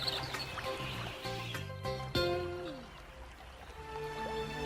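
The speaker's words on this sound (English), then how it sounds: "It's the sound of the bird singing." Cartoon birds singing as nature awakens, bright chirps and short melodic whistles layered with tonal musical score and trickling sounds, moderately loud with brief sweeping effects.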